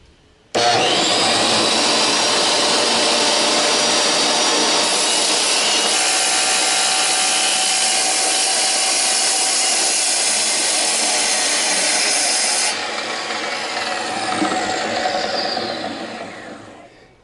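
A Dewalt D24000S saw makes a freehand cut, its loud motor roaring steadily and close for over fifteen seconds, the tone shifting slightly near the end before spinning down.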